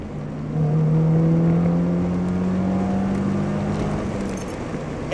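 A 9th-generation Honda Civic Si engine with an aftermarket exhaust hums and swells as it revs, a low throaty exhaust tone rising and falling steadily, heard from inside the car.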